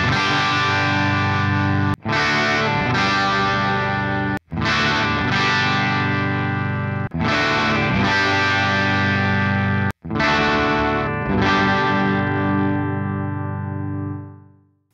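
Sustained Fender-style electric guitar chords through an amp modeler, with several strummed phrases ringing out loud and heavily sustained before a final fade.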